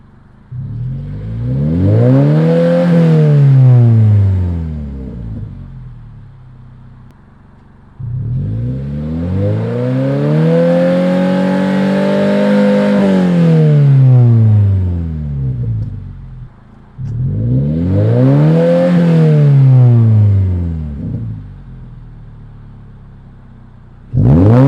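A 2022 car fitted with a Borla S-Type catback exhaust accelerates in three loud, sweeping revving passes, its engine note climbing and falling with each run, with no talk over it.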